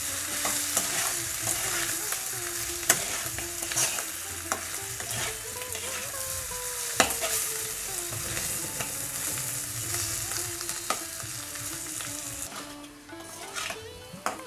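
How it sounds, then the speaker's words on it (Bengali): Spiced new potatoes frying in a pan while being stirred, with a continuous sizzle broken by repeated scraping and clinking strokes of a spatula, close and fairly loud, and a faint voice now and then in the background. "আবারও নেড়ে চেড়ে নিচ্ছি"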